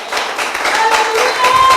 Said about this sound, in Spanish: Denle un aplauso bien fuerte a Dios.